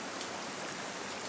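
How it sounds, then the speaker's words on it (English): Steady rain falls as an even, close hiss of drops on a surface, continuous and unbroken, with no voices. "The rain lifted and settled again, like a blanket shaken and laid back down."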